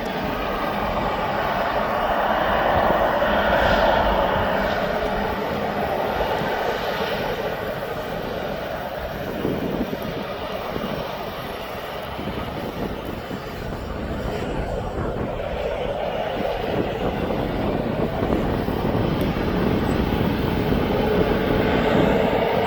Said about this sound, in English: As you can see, he's taxiing up.